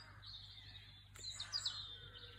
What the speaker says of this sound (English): That's a robin.